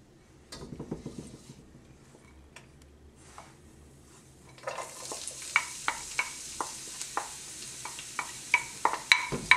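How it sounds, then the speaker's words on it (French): Sliced onions sautéing in a wok: after a quiet start, a hiss of frying rises midway, joined by regular sharp taps and scrapes of a utensil stirring the onions. "Dans lequel vous allez mettre à revenir les oignons émincés."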